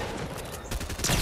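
Rapid, faint bursts of gunfire crackle in a Fortnite match, sounding like distant overlapping volleys.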